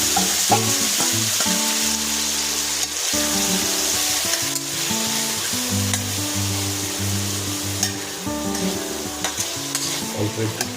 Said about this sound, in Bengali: তেল গরম হয়ে গেলে অল্প একটু কালো জিরে ফোড়ন দিয়ে মাছগুলো রেখে দিলাম